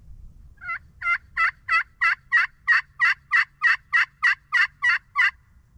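A wild longbeard turkey gobbles in a fast run of about fifteen sharp, rattling calls, clear and fairly close against a quiet outdoor background, with no talking.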